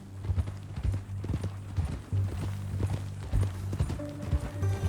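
Horse hooves clip-clopping at a steady walking rhythm in the Red Dead Redemption 2 video game, close and clear with a low, even cadence of hoof strikes and no talking over them.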